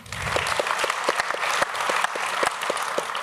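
Audience applauding at a book presentation on the fate of Jews in occupied Polish counties, steady clapping from a room full of people lasting a few seconds.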